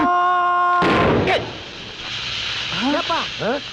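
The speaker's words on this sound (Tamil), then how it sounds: "கீழே டயர் போயிடுச்சுடா" A sudden loud burst like a tyre blowing out, cutting through a musical tone, followed by a short second pop and then voices talking.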